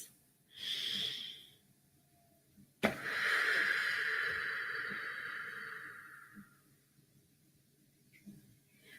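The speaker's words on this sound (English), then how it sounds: "take a deep breath in with me. One more breath to center ourselves" A group draws in a deep breath together and lets it out, a soft inhale followed after a short pause by a longer, louder hissing exhale, close and quiet in a calm prayer setting.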